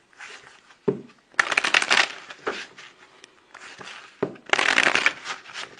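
Tarot cards being shuffled by hand in close, crisp bursts of riffling and rustling, with short pauses between rounds.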